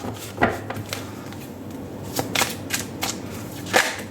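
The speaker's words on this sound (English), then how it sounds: "We'll shuffle the cards." A tarot deck being shuffled by hand, soft riffling and slaps of cards with several sharper snaps at irregular intervals, close and fairly quiet with no talk.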